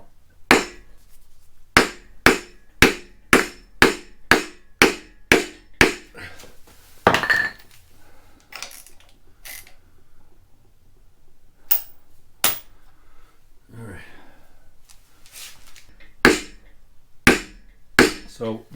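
Hammer tapping a crank hub onto an LT1 Gen 2 engine through a wood block: a long run of sharp, evenly spaced knocks, close and fairly loud, with pauses and a voice talking briefly between the blows.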